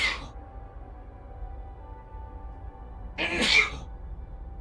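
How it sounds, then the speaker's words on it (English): A person sneezes twice, loud and close, with the sneezes about three seconds apart and quiet between them. "Start sneezing, then it just comes in waves."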